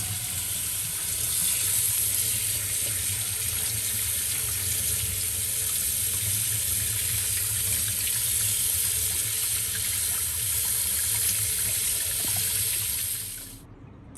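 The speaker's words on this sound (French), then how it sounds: "Faut bien le rincer." A steady, loud stream of tap water runs over a cured homemade coppa held under the faucet, hissing evenly for the whole stretch before cutting off abruptly at the end, with no talking.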